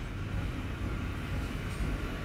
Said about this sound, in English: that train. It's still going.